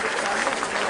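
Dense clapping from the audience at a Hindi poetry recital fills a brief moment, steady and close with no pause.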